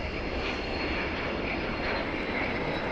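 A Fiat G91R jet aircraft makes a slow pass with its gear down at an airshow, a loud, steady broadband roar that holds at the same level throughout with no voices.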